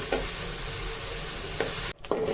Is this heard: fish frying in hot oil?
yes